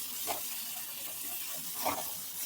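Chopped onions fry in a pan with a faint, steady sizzle and hiss, broken by two soft stirring swishes, with no voices.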